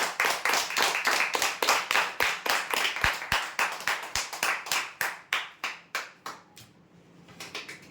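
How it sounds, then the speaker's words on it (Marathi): An audience at a prize draw claps in rapid rhythmic bursts that slow and thin out toward the end, fairly near and moderately loud. "जोरदार टाळ्या होत्या"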